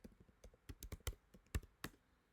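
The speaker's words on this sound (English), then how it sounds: "So when I type something" Keystrokes on a computer keyboard, a quiet run of separate taps with a few sharper, louder presses, close by with no voices.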